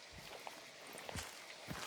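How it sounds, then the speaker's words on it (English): Footsteps in the Hunt: Showdown shooter, from someone crouch-walking close by, land as a handful of soft, uneven thuds spaced through quiet ambient noise. "And I'm hearing footsteps to my right."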